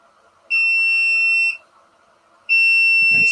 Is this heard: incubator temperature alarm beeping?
yes